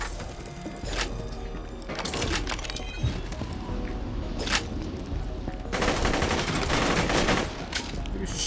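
Bursts of automatic gunfire in the video game Borderlands, with rapid rattling volleys starting and stopping over a steady background bed, the heaviest sustained burst near the end.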